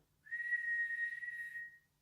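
A person whistles one clear, steady high note for about a second and a half, close and alone in a quiet room.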